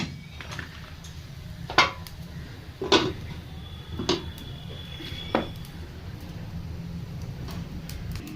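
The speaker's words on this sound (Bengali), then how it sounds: "একটু লাড়িয়ে আমি এবার ঢাকনা দিয়ে দেবো" A lid is set onto a cooking pot of chicken curry, making several sharp metallic clanks and knocks at irregular intervals over a low background hum.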